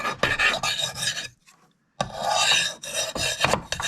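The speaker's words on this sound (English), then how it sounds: "And then you can take the blade and go forward to basically take the burr off." A knife blade is sharpened with rough back-and-forth rasping strokes against a whetstone, close and loud, with a brief pause of silence midway before the scraping resumes.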